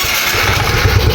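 A 2010 Honda Smash 115 motorcycle engine catches and runs close and loud, with a rough low putter that grows choppier and more uneven toward the end.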